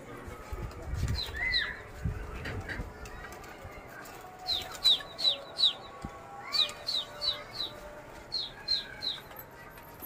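Wings flap repeatedly in quick bursts among high chirps from pigeons nearby, with soft background noise between the flurries.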